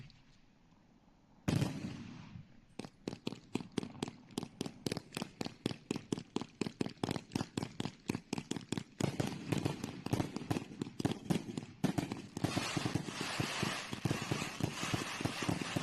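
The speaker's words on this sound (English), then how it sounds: "it's called Jackpot Fireworks." Jackpot brand fireworks going off up close in a rapid, steady barrage of sharp cracking bangs that continue for many seconds and turn denser toward the end.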